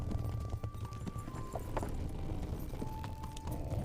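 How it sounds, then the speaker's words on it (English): A horse galloping in Kingdom Come: Deliverance, a steady muffled clip-clop of hooves running continuously at close range over low rumbling game ambience. "Run like the wind, steed."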